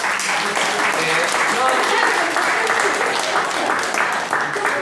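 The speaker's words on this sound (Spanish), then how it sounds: "Aplaudimos." A gathered audience at an evening talk about God breaks into sustained applause, dense and fairly loud, with voices talking and calling out over the clapping.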